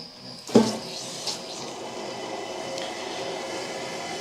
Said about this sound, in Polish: Także zaczynamy od napełnienia maszyny wodą.